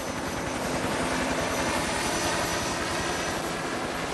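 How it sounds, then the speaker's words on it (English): A helicopter comes in to land for a casualty pickup in a jungle military exercise, its rotor thudding loud and steady with a continuous engine roar throughout, close and unbroken. "The helicopter will then come in, over, they'll take the casualty down and put them into the chopper."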